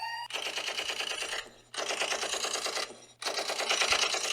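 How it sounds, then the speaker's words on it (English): Machine gun fire as a sound effect: three rapid, rattling bursts, each lasting over a second and separated by brief pauses, sharp and close, with no voices. "Machine gun fire from a semi-automatic"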